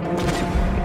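A StarCraft 2 unit opens fire with its guns, a short dense burst of rapid gunfire with booming impacts, loud and close.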